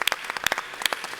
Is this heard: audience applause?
yes